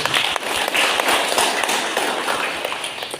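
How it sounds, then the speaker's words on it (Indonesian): Audience clapping at a community gathering in East Flores honoring outgoing organizers, a steady wash of many hands heard from within the crowd, with no talking over it. "Dan kita tepuk tangan."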